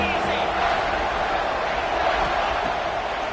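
A packed football stadium crowd at a UNC game roars after a big third-down play, a dense, continuous wall of cheering that stays loud throughout, with a commentator talking over it.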